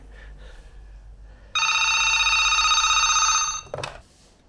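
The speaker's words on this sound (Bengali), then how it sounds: "ফোন আছে বলতে বলতে ফোন চলে আসছে রিসেপশন থেকে" A hotel room telephone in Pokhara, Nepal rings with a call from reception: a loud, close, steady electronic trill lasting about two seconds, then cut off and followed by a brief handling clatter.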